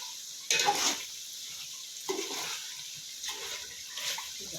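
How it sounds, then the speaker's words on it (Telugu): Water pours steadily into a cooking pot of chicken pulao in several short bursts, a soft hissing splash with quiet gaps between, close by and fairly faint. "ఇప్పుడు నేను నీళ్ళు పోసుకుంటున్నానండి"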